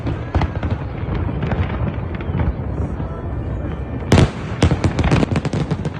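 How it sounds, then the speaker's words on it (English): Fireworks over the Brooklyn Bridge in New York City, a dense run of booms and crackling bursts with sharp louder blasts near the end, loud and continuous against faint background noise. "We're watching the Brooklyn Bridge, New York City fireworks."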